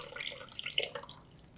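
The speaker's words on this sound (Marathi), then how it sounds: "आता धार लावायची किंवा दोन ग्लास घेऊन खालीवर करायचे मस्त असा फेस येतो" Sweet-sour buttermilk is poured from a height into a glass to froth it, making a brief, close splashing and trickling sound.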